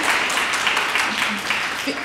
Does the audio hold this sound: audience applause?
yes